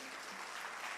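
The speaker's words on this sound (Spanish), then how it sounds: "Yo le doy un fuerte aplauso al Señor Jesús" Church congregation at a Spanish-language service applauds in praise, a faint, even patter of many hands clapping in the distance with no speech.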